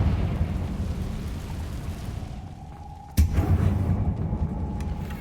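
A Confringo blasting spell exploding in Hogwarts Legacy, a sharp sudden blast landing after a low rumbling wash, followed by a heavy sustained roar with a thundering boom, loud and close.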